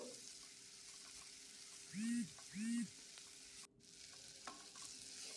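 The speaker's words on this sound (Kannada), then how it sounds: "ಈಗ ಇದಕ್ಕೆ ಮೆಂತ್ಯ ಸೊಪ್ಪನ್ನ ಹಾಕ್ಕೊಳ್ತೇನೆ ಒಂದು ನಿಮಿಷ ಇದನ್ನು ಎಣ್ಣೆಯಲ್ಲಿ ಫ್ರೈ ಮಾಡ್ಕೊಳ್ಬೇಕು" Fenugreek leaves frying in oil, a faint continuous sizzle with a low hum, broken by two short whistling tones and a brief thump, no talking.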